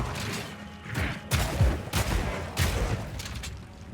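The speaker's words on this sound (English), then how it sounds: "Explosions." A quick, loud string of explosions from the video game Path of Exile 2, several punchy booms a fraction of a second apart with crackling rumble in between.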